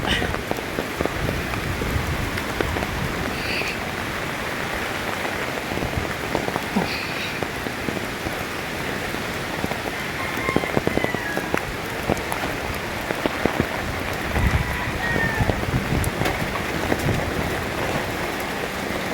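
Steady rain patters down on surfaces, a dense continuous hiss of drops with occasional louder splashes, heard without pause throughout.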